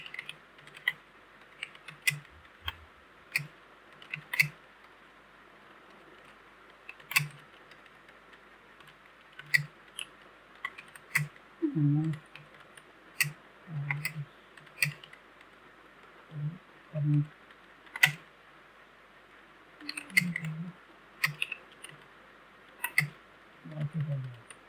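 A computer keyboard is typed on in quick, irregular bursts of close, light key clicks, broken by short pauses, with soft murmuring in the background at times.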